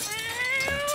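Cat meowing in the video game South Park: The Fractured But Whole, one drawn-out, rising and falling meow heard up close and clearly.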